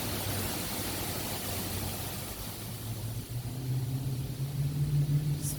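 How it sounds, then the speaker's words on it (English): Wind buffets a microphone outdoors during potting of Dieffenbachia (dumb cane) with worm compost soil. A broad steady roar with low rumbling gusts runs throughout and swells louder near the end, with no speech. "sorry about the wind,"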